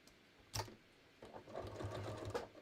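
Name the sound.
sewing machine stitching up the short end of shorts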